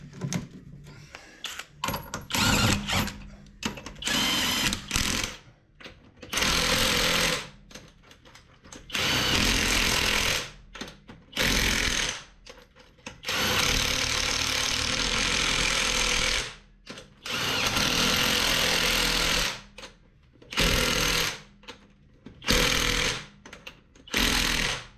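Impact gun driving 13/16 wheel bearing bolts on a 2014 Mitsubishi Outlander front hub, rated at 138 foot-pounds: loud, close bursts of rapid hammering rattle, repeated many times with short pauses between.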